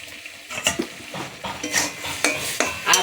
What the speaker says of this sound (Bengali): ঢাকাটা একটু খুলবো খুলে কিছুটা চিংড়ি মাছ দিচ্ছি